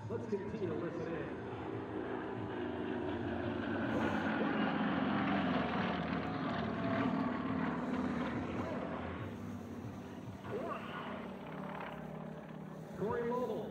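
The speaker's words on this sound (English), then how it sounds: "Corey Lowell, call sign Zippy, is flying the blue SU-26 for us today" A blue Sukhoi SU-26 aerobatic propeller airplane flies a demo at an air show at Travis Air Force Base, its engine droning and shifting in the distance beneath steady announcer commentary.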